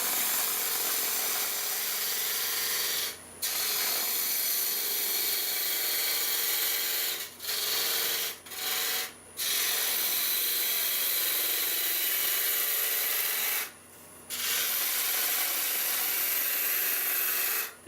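A half-inch gouge on a wood lathe takes steady cuts into spinning wood while turning a tapered cowboy hat, a continuous rough scraping hiss broken by a few short pauses as the tool lifts away.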